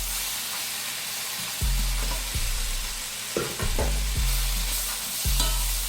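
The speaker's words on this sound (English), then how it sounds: "So look how quickly spinach cooks." Spinach sizzles and fries in a pan with steady crackling, broken by several repeated stirring scrapes and soft thumps against the pan.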